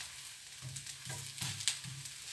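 Zucchini carrot dosa cooking in butter on a pan, giving a quiet, steady sizzle with faint bubbling crackles.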